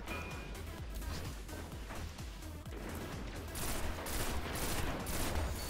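In a Destiny Crucible match, a Nerwin's Mercy shot lands a headshot among dense, continuous gunfire. The crackling volleys and booms run loud and steady throughout.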